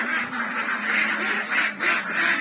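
Ducks on a Philippine duck farm, housed in a renovated pen, quack loudly and repeatedly close by, with overlapping calls from the flock and no talking.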